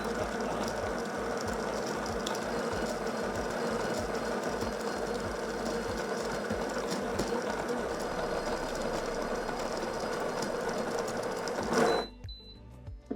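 The built-in grinder of a Dualit espresso machine purges coffee grounds after a grind change, a continuous close buzzing whir that runs steadily for about twelve seconds and then stops abruptly.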